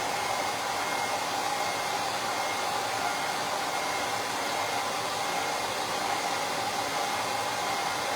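Handheld dryer blowing steadily to dry printed ink on a shirt between transfers, a loud continuous airy roar holding level throughout with no talk.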